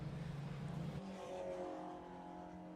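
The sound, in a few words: race car passing at Snetterton circuit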